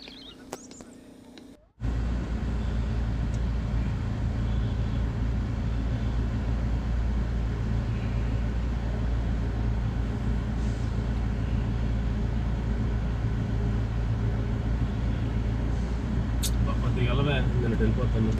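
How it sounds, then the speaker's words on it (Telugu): Cars sit in a roadside traffic jam on the way to the 2025 Kumbh Mela at Prayagraj, with a constant low engine rumble close at hand after a brief quiet start and a few faint higher sounds near the end. "ఒకసారి చూడండి, దారి మధ్యలోనే బాగా ట్రాఫిక్ జామ్ అయింది."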